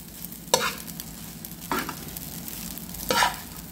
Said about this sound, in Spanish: la removemos la pasa